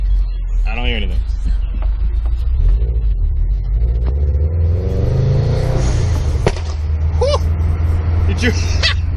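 An HKS SQV4 blow-off valve on a car lets out a sharp, gunshot-like pop while the car is being driven. The pop rises over a steady engine and road rumble, and voices talk and exclaim around it.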